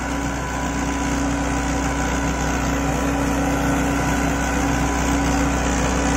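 A Mahindra Arjun 605 tractor pulls a 9-foot rotavator through a paddy field, its engine a steady, close, unbroken drone with no voices.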